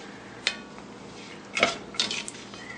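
Cooked spaghetti carbonara tossed in a very hot pan with the heat just turned off: a few sharp metallic clanks and scrapes of utensil against pan, spaced out and brief over a quiet background.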